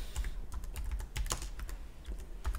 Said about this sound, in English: Then you go up to the search bar and you type in Fusion